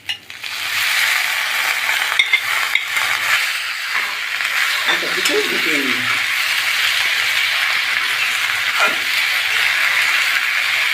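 Boiled broad beans tipped into softened onions frying in a pan with garlic, a steady loud sizzle throughout with scraping stirs of a spoon rising over it midway and again near the end.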